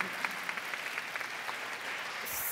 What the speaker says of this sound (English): Sure, you can go ahead and clap